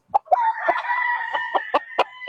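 Gamefowl roosters crow at a game farm in San Ildefonso, Bulacan, a drawn-out close crow broken by sharp clucks and calls before and after, loud and alone.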